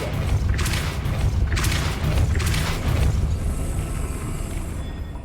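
Depulso spell cast in the Hogwarts Legacy video game: a dense, loud rumbling blast with repeated surging bursts, settling into a steady roar and a thin high ring as it fades.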